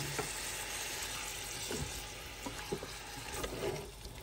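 Meat sizzles and crackles in a hot pan while being stirred, a quiet steady frying hiss with occasional scraping clinks of the utensil, no talk over it.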